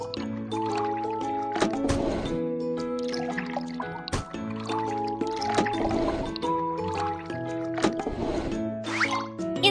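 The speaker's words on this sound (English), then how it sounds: "Pour liquid into the correct tank." Cartoon liquid pours into a car's tank during a car-repair game, a run of squishy glugging and dripping bursts over steady bright musical tones, repeating every couple of seconds at close range.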